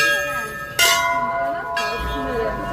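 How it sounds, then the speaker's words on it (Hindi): Hanging temple bells ring at Chitai Golu Dev temple in Almora, a bright struck clang followed by a second strike, with long sustained metallic tones overlapping and fading, close by amid faint background voices. "ये जगह यहाँ पे घंटियाँ लगी हुई हैं"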